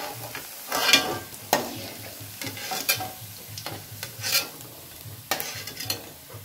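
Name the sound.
tempe frying in hot oil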